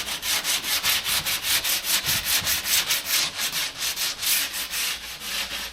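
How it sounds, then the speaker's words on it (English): A metal edge inside a VW Caddy van being deburred with rapid, rhythmic rasping strokes, about four per second, close and steady with no talk. "Just need to take this little burr off, deburr it there."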